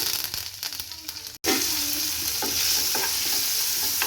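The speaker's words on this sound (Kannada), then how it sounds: "ಸಾಸಿವೆ ಜೀರಿಗೆ ಚಟಪಟ ಅಂದಿದೆ." Mustard seeds, cumin and curry leaves splutter and sizzle in hot oil: a dense, steady crackle that breaks off for an instant, then resumes loudly with scattered sharper pops.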